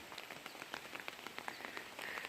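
Light rain patters steadily on a surface in a Konkan village, with scattered individual drops ticking through a soft, quiet hiss; no voices.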